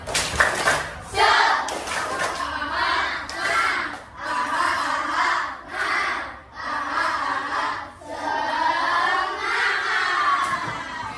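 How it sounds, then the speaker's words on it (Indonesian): A classroom of children does a rhythmic spirit clap, chanting and clapping together in loud repeated bursts separated by brief pauses, with a busy crowd-like ring to the room. "Kita tepuk semangat dulu supaya semangat mengikuti kegiatan belajar."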